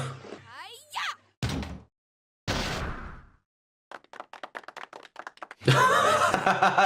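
Applause during a Twitch stream segment: after bursts of talk and a run of scattered claps, a dense, loud wash of clapping rises and fills the final second or so.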